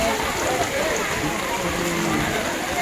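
Rain falls steadily at the Malad fish market, a dense, even hiss of drops on surfaces with faint voices mixed in underneath.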